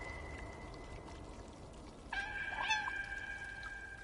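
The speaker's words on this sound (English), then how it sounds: "They're meowing for me." Cats meow in the video game Stray: a couple of thin, drawn-out mews come in around the middle, fairly soft over a low game-ambience hiss.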